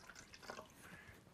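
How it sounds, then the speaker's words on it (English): Water poured a little at a time into a cup for a chlorine test, a short soft trickle and splash heard up close and alone. "So pull a little water in here"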